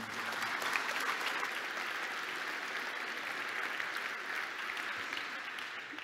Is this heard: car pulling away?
no